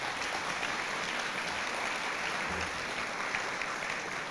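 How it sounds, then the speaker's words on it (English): Steady applause from an audience at a guide dog class graduation ceremony, a continuous wash of clapping heard at a distance and fairly faint, with no talk over it. "Big round of applause for this class."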